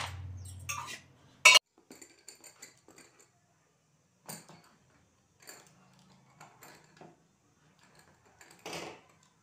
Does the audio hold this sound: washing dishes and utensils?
yes